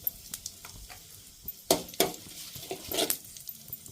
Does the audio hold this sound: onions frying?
yes